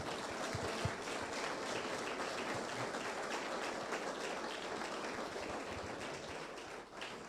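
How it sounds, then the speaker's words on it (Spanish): A church congregation gives sustained applause after a sermon passage, a continuous wash of many hands clapping, fairly distant and even in level until it starts to fade near the end. "Denle un fuerte aplauso al Señor."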